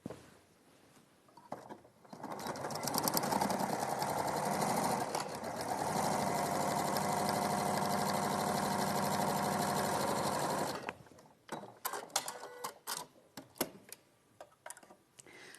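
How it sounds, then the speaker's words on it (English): A sewing machine runs steadily for several seconds, stitching a 1 cm seam allowance with reverse locking, close and loud, then stops and gives way to scattered clicks and fabric handling. "I'm going to sew at my 1 centimetre seam allowance, being sure to reverse at the start and the end"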